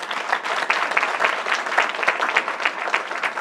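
An audience claps steadily and fairly loudly throughout, a dense, even patter of many hands with no voices on top.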